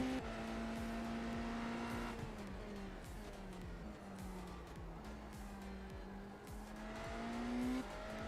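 A race car in the Daytona 24 racing game brakes and downshifts, its engine note stepping down in pitch under a faint tire squeal, loud and continuous with no talking.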